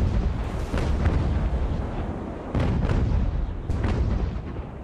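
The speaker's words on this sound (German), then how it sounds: "Gut, dann schießen wir mal ein bisschen Schrapnell rein." Naval cannons firing shrapnel in the age-of-sail battle game Ultimate Admiral: Age of Sail, with a dense rumble of booming shots and a few sharper bursts rolling one after another, no voices.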